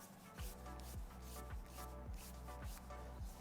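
Fingertips rub foundation onto facial skin in short, regular strokes, about six soft scrubbing swishes in a steady rhythm, close and quiet with no talk.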